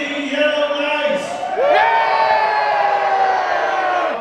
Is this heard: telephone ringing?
no